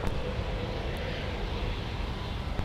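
A former AirTran jet, now flying for Delta, at Minneapolis–St. Paul airport, its engines giving a steady broad roar heard from a distance, constant in level with a couple of faint clicks.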